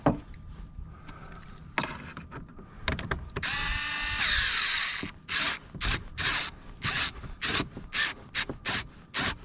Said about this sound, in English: I did grab an electric screwdriver this time, so I can just hit it and tighten it right up